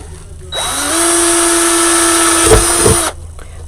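A power drill bores holes through a skate-themed winter door hanger, one steady, loud, close whine running for about two and a half seconds before cutting off.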